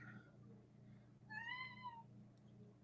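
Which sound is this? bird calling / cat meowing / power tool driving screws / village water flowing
cat meowing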